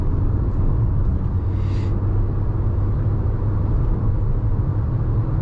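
Inside a car taken at speed into a curve, a low, steady road and engine rumble continues throughout with no clear change in pitch.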